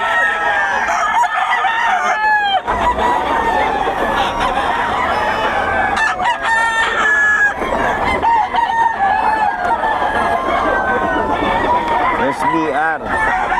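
Chickens and roosters in Bocaue cluck and crow loudly and close by, several birds overlapping in repeated crows, while people talk among them throughout.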